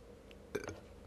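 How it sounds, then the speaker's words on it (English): A single short burp, faint and close, standing alone against a quiet background. "Oops, I burped."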